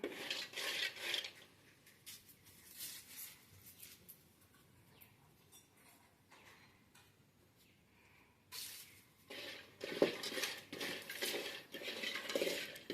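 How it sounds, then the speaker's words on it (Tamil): Peanuts roasting dry in a pan, stirred with bursts of scraping, rasping rattles that come and go, louder near the start and again toward the end, with quieter stretches between; no talking. "வேர்க்கடலை வறுக்கிறேன்."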